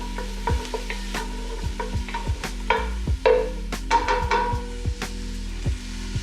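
Chopped onions frying in a pot for turkey chili, a soft sizzle under repeated sharp clicks and scrapes of a spoon stirring against the pot, coming in an uneven rhythm and heard up close.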